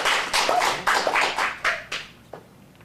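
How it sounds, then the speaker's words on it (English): A small audience gives a short round of applause for a child performer at an acting showcase: a few scattered bursts of hand claps in a quiet room, fading out within about three seconds. "Let's give her a round of applause."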